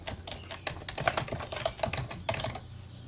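Quick keystrokes on a computer keyboard as a new database name is entered in Transana, a close, irregular patter of clicks with no talking over it.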